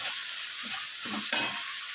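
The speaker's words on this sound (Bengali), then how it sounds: "এরপর সমস্ত কিছু মশলা টমেটোর সাথে একটু নাড়াচাড়া করে কষিয়ে নিচ্ছি।" Spices and tomatoes stirred and fried in a pan for a vegetarian potato curry, giving a steady close sizzle with a few soft scraping stirs and one brief louder clatter near the end.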